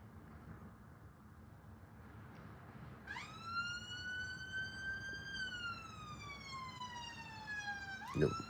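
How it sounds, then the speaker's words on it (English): A siren rises in from about three seconds, wailing in long sweeping tones over steady traffic rumble, fairly close and growing louder toward the end. "that's an ambulance"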